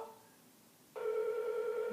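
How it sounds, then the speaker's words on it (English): A telephone ringback tone on an outgoing call to an office line, starting partway through as a steady, fairly loud electronic purr after near silence. "Oh, it's ringing."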